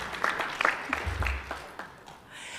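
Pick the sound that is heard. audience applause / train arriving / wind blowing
audience applause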